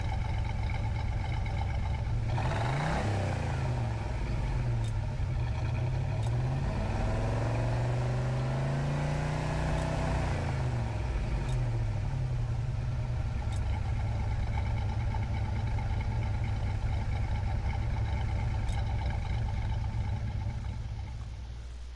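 LS9-swapped Pontiac Firebird Trans Am V8 in Gran Turismo 7, starting up and settling into a steady, loud low grumble with a few rising and falling revs near the start, then holding a continuous idle throughout.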